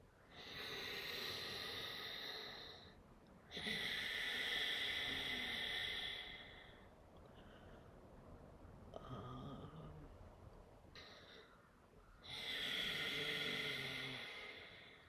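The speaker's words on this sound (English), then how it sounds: "So your inhalations and exhalations make a sound because you've brought a little bit of friction in your throat." Slow Ujjayi meditation breathing, each long inhale and exhale rasping with throat friction, close and steady with short quiet pauses between breaths.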